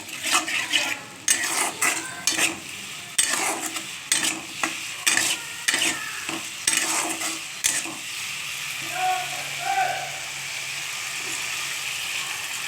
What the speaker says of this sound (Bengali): দেখুন একটা কাঁচা মিঠে আমটা এর সঙ্গে কষিয়ে নিচ্ছি, একটু জল দিয়ে দিলাম